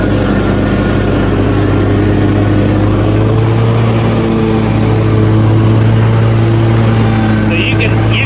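A Wright ZTS or Altoz 610 SSi zero-turn mower engine runs wide open at full throttle with the hydraulic pumps loaded, a loud, steady, close drone holding its RPM, with someone talking over it.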